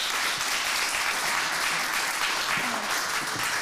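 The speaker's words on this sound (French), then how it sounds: "On peut l'applaudir" A conference audience at a Swiss French-language media innovations event applauds a speaker, a loud, dense and even wash of clapping lasting the whole stretch.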